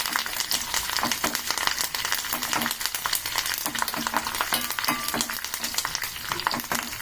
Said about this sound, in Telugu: వేయించుకోవాలండి తాలింపును.